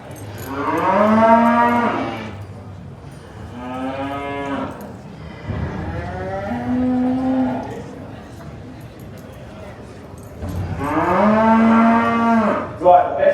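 Cattle steers, including red and black Hereford steers, moo loudly at a livestock judging, with three or four long, drawn-out bellows close by, separated by brief pauses.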